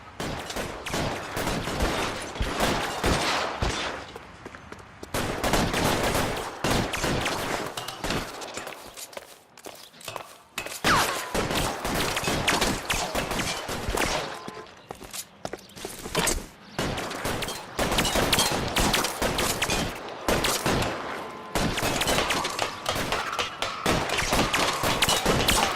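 Gunfire rattles through a shootout in L.A. Noire, with repeated bursts of shots and clattering footsteps, loud and nearly continuous apart from short lulls.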